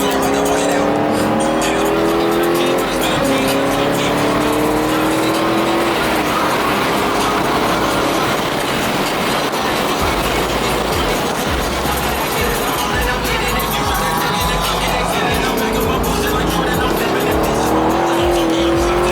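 A 2014 Hyundai Genesis coupe laps a race track, engine loud and close from inside the car, rising and falling through gear changes as the tires squeal through corners, with voices speaking over it.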